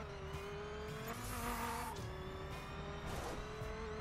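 A Dodge Viper's engine in The Crew drones steadily while driving, with pitch rising and falling through gear changes and occasional tire noise, alone at moderate level.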